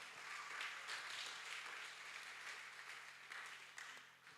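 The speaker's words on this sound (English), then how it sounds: "Give him a clap." An audience at a youth convention session on substance abuse claps in steady, fairly distant applause that swells briefly and then tapers off, with no talking over it.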